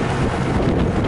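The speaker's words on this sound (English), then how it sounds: "the wind is whizzing about pretty good" Strong outdoor wind buffets the microphone in a loud, continuous rumble that drowns out everything else, heard while riding a 1995 EZGO Workhorse utility vehicle.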